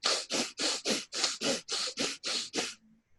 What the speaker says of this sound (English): We're going to inhale and exhale only through the nose